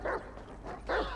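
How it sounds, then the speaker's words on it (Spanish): A dog in a video game gives two short, muffled barks or yips about a second apart, fairly close, with no talk over them. "Dale vos, perro gordo."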